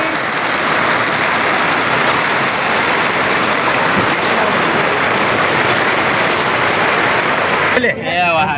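Steady, dense rain pours down over Shastri Market in Vijayapura during Dasara shopping, a loud continuous hiss with voices murmuring beneath it.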